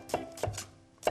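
A kitchen knife chops a large onion on a cutting board while a chef prepares jajangmyeon: three crisp, close chopping thuds spaced unevenly, with quiet pauses between them.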